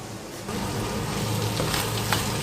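Minced meat for buckwheat nalysnyky sizzling loudly and steadily in a hot frying pan, a dense close crackle with small spattering pops.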